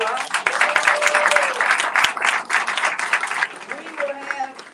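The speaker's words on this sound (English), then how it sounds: "Let's give them a big round of applause." Audience applause for breast cancer survivors at a county cancer awareness event, a loud, dense burst of clapping filling the room for several seconds, with voices audible underneath.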